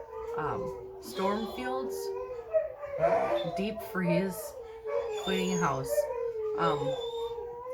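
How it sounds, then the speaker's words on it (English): Dogs howl and whimper in rising, wavering tones indoors, mixed under and between a person talking steadily nearby. "Sorry, my dogs are going to howl."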